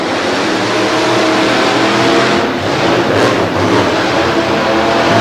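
Monster trucks race side by side at the 2022 Monsters of Destruction event in Madison, their engines producing a loud, continuous roaring drone that swells slightly midway.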